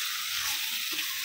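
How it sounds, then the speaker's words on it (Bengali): Rice fries in a pot for pulao, a brief, steady close sizzle with faint stirring movement underneath. "এখন ভালো করে নাড়াচাড়া করে নেব।"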